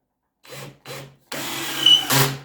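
A Black+Decker BDASB18V two-speed hammer drill gives two short whirring bursts, then runs longer as a screw drives into wood, rising in pitch and load near the end, loud and close.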